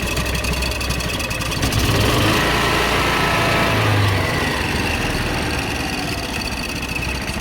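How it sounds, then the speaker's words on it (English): A derelict John Deere Gator utility vehicle engine idles high and steady with a fuel delivery problem, a continuous near mechanical drone with a faint rhythmic pulse throughout and no talking. "It's not supposed to idle that high because of the governor,"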